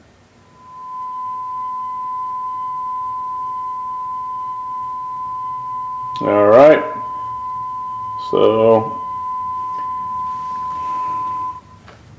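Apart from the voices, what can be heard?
sine wave test tone from vinyl record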